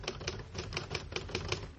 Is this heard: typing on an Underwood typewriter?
yes